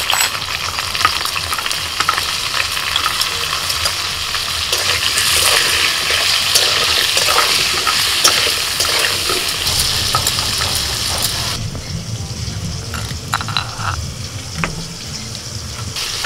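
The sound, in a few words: potatoes frying in a pan with salt and turmeric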